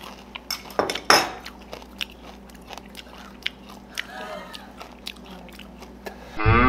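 Biting and chewing on raw Amur starfish, with crunchy, gritty bites and sharp clicks scattered over a quiet background, joined by occasional clinks of dishes and light voices.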